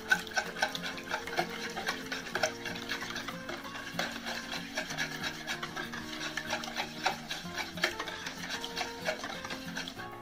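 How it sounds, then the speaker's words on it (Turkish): An egg mixture is stirred briskly in a bowl with a utensil, producing close, rhythmic scraping and rubbing strokes that continue steadily throughout with no talking. "Bunların hepsini güzelce bir karıştıralım."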